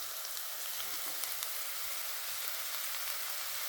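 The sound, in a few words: sautéing ginger garlic paste in a pan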